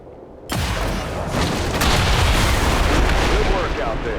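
A generator blows up in the strategy game XCOM 2: War of the Chosen. After a brief quiet lead-in comes one sudden, loud, booming blast, followed by several seconds of sustained rumbling roar.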